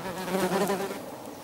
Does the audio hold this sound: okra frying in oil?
no